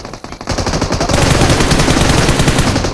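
Loud, sustained automatic gunfire in a competitive battle royale scrim match, beginning with a few scattered bursts and then running as a dense, continuous volley of rapid shots close by, with no talking.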